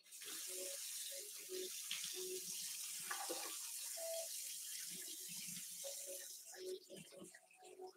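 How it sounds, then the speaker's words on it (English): Tap water runs steadily into a tiny bowl holding egg replacer for vegan cornbread batter, a continuous hiss lasting several seconds. "I just added some water to this."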